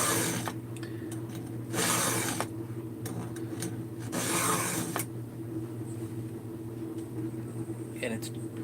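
A hand file rasps across a chainsaw chain in a few short bursts of swipes, close and moderately loud, separated by quieter pauses over a low steady background hum.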